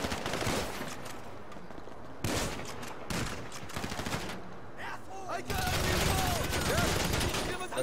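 Gunfire in the video game GTA Online during a bank heist raid on a Korean gang, with dense bursts of rapid shots and heavy background noise running through the clip, and a brief break midway.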